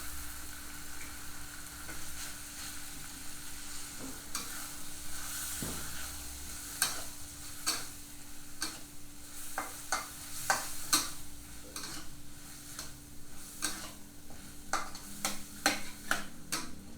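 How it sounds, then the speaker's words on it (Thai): Nam prik ong, a Thai chili paste with tomato, is stir-fried in a pan, giving a steady low sizzle broken by repeated sharp ticks and scrapes of a utensil against the pan, with no voices. "ผัดไปเรื่อยๆ ครับ"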